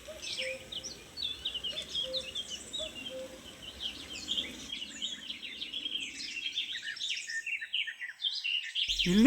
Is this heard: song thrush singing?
yes